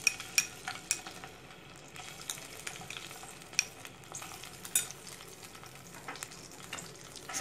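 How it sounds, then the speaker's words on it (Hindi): Ginger garlic paste frying in hot oil with asafoetida and cumin, a soft sizzle broken by repeated spoon scrapes and taps against the pan, close and fairly quiet, no voices. "इसमें हम जिंजर एंड गार्लिक का पेस्ट ऐड करेंगे।"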